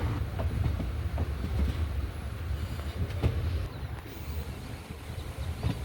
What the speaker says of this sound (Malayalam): അങ്ങനെ പളനി റെയിൽവേ സ്റ്റേഷനിലേക്ക് ട്രെയിൻ കയറിക്കൊണ്ടിരിക്കുകയാണ്